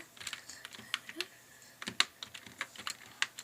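Someone types a Minecraft command on a computer keyboard, producing quiet, close clicky keystrokes in irregular quick bursts with short pauses between them.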